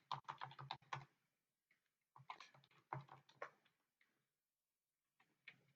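Quick bursts of clicking keys on a computer keyboard, typed in short runs separated by quiet pauses, close and fairly soft.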